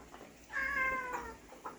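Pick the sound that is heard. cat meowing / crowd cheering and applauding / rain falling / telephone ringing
cat meowing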